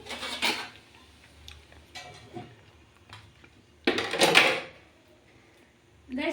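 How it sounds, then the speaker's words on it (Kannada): A plate set over a frying pan of tomatoes as a lid, heard as two sharp, close clattering knocks of crockery on metal, with quieter handling and small clinks between them. "ಈಗ ಟೊಮೆಟೊ ಹಾಕ್ಬಿಟ್ಟು ಪ್ಲೇಟ್ ಮುಚ್ಚಿಬಿಡ್ತೀನಿ"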